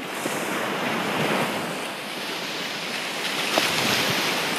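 Sea waves wash and surge steadily onto the shore, a broad continuous roar with wind buffeting the microphone.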